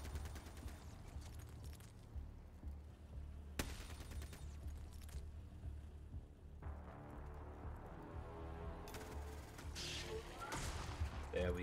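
Gunfire in the turn-based tactical game Xenonauts 2 during a terror mission in Norway: dense bursts of shots and impacts over game music, with sharp broadband cracks near 3.5 and 9 seconds, with a person talking over it.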